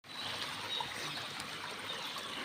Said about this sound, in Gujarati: આ બધું પાણી છે ને કૂવામાંથી આવે છે, એક જગ્યા પરથી.